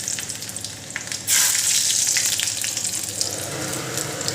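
Garlic hitting very hot oil in a pan while cooking a Bengali curry, a sudden loud sizzle that bursts in and holds steady, crackling close up with no talking.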